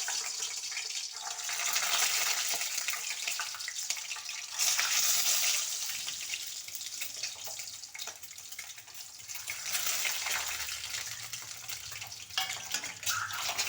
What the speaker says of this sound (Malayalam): ഇപ്പോഴാ എണ്ണ ചൂടായി വന്നിട്ടുണ്ട് അതിലേക്ക് ഈ മുട്ട പറക്കി അങ്ങോട്ട് കൊടുക്കാം